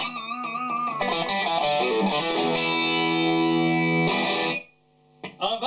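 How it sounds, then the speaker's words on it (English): Distorted electric guitar played with a hard pick attack for pinch harmonics, loud and close with effects, sustained notes and squealing overtones for about four seconds, then a brief pause and a new attack. "you've got to dig in really hard and get those pinch harmonics"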